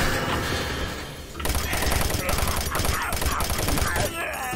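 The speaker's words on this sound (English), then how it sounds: "I don't really like this machine gun though. It's a bit generic." A machine gun fires in the shooter game Doom 3, a loud, dense rattle of rapid bursts with booming impacts, while a player talks over the gunfire.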